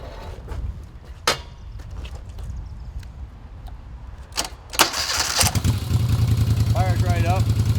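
A 1981 Moto Guzzi motorcycle engine cranks and fires up around the midpoint, then settles into a steady, loud idle close by, with scattered knocks and handling noises before it catches.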